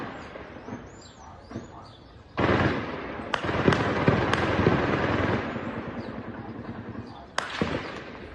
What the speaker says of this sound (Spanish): imagínense la cantidad de explosiones y disparos que se escuchan